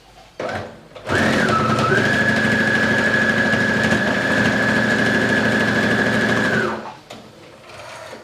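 A sewing machine stitches a child's handbag in one long, steady run of rapid mechanical whirring, loud and close, starting and stopping sharply with brief handling noise before and after.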